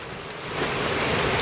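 Heavy rain pouring in Kanyakumari, a broad, continuous hiss that swells slightly louder partway through and stays steady, with no voices.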